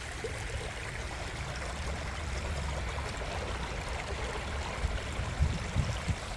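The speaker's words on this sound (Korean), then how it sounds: "물소리 ASMR 한번 들어보실까요?" A stream, a tributary of the Seocheon in Gyeongju, South Korea, flowing steadily, water rushing and babbling continuously with a few brief splashy gurgles near the end.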